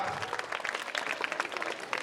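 Hearty applause from an audience at a Navodaya school alumni meet in Laduna, Mandsaur, a dense burst of many hands clapping close and loud, with a bit of crowd noise underneath.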